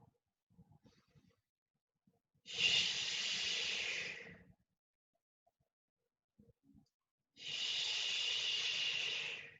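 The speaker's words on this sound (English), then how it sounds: "Inhale, lift. Exhale, down." Two long, slow breaths during shoulder rolls, each a steady airy rush lasting about two seconds, close and clear, separated by near silence.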